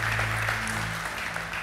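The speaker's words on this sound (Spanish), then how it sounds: "Dale un fuerte aplauso a Dios mientras usted se sienta" A church congregation claps together in a brief burst of applause, steady and dense throughout, with a low sustained musical tone underneath.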